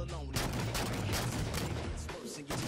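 Rapid bursts of gunfire from the video game Halo 4, dense and continuous across the whole moment with overlapping shots and loud impacts, no voices over it.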